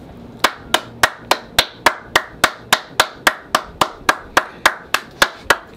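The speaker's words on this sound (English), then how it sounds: "that's all I could do is give Drake a round of applause" A lone man claps slowly and evenly, about eighteen sharp, close handclaps at a steady measured pace with nothing else around them.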